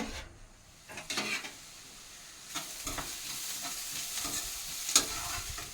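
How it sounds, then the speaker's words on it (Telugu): Onions frying in a pan, a steady soft sizzle with a few scraping stirs and one sharp clink near the end, close by and with no talk. "ఉల్లిపాయలు అయితే బాగా వేగినాయి"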